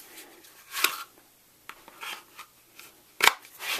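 An inside-waistband holster for an H&K P30 pistol makes a few sharp clicks, separated by quieter rubbing and handling sounds, close and fairly faint.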